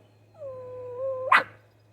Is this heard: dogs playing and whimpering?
yes